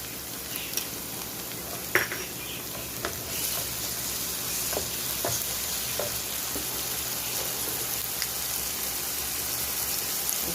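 Onions and ginger garlic paste frying in a pan give a steady, dense sizzle that stays close and even throughout, with faint crackles and small pops on top and no talk.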